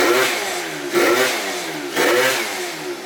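A 70cc Yamaha BWS scooter with a stock pipe revs hard off the line in three rising surges, the small engine buzzing loud and close.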